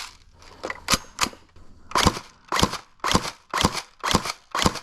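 Airsoft shotgun fed from a drum magazine fires about eight sharp, loud shots outdoors, first in a quick irregular burst and then at a steady pace of roughly two per second, with no talking.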